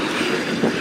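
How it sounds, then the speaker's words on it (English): A Manchester tram rolls past on its rails in a brief, loud, steady rumble of wheels on track, with no voices. "That's the tram. It's gone."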